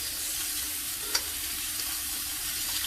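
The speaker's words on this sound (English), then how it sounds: "Turn the steak over. That's a nice sear." Steak sears in a hot frying pan, a steady close sizzle and crackle continuing unbroken through the clip with one small pop.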